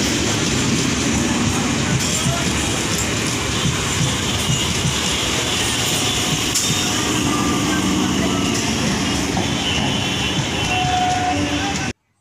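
A Bongaon line train rolls along in a continuous, loud rumble of wheels and carriage noise, steady from start to finish with faint clatter mixed in.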